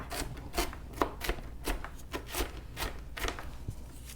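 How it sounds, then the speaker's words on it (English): A knife chopping onion finely on a cutting board for a stove-top stuffing side dish, with about a dozen quick, close, irregular knocks and scrapes over a faint background hum. "Trying to chop that up pretty fine. I like the taste of onion, but I don't want big chunks of it."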